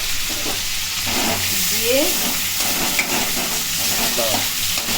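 Bay leaf, dried chilli, cinnamon, cardamom and cumin fry in hot oil with a steady, close sizzle and hiss, broken by occasional stirring scrapes.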